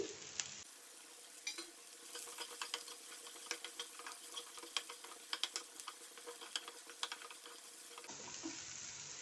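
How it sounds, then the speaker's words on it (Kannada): Chopped beans, carrot and other vegetables frying in oil in a pan, a steady close crackling sizzle with scattered sharp pops and occasional stirring scrapes throughout. "ಒಂದು 2 ಮಿನಿಟ್ಸ್ ಈ ಆಯಿಲಲ್ಲಿ ಸ್ವಲ್ಪ ಫ್ರೈ ಮಾಡ್ಕೊಳ್ಳೋಣ ತರಕಾರಿಯನ್ನು"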